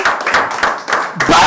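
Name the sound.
congregation applauding for the word of God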